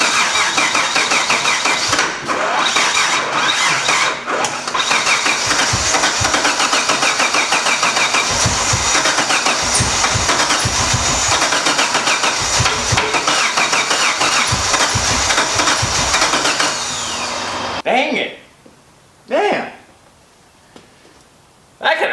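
A Mitsubishi 3000GT VR4 engine cranks loudly and continuously with a rapid rhythmic starter churn for about seventeen seconds, then stops, leaving near silence broken by a couple of brief noises.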